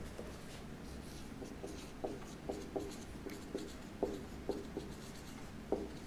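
Chalk or a pen taps and scratches across a board during a Class 9 physics lesson on force, giving faint, irregular strokes over a low room hum.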